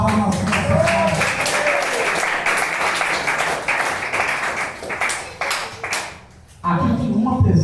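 A congregation at a Pentecostal church service in Eunápoli clapping rhythmically in praise, loud and sustained before briefly dropping off, with a preacher's voice speaking over the clapping.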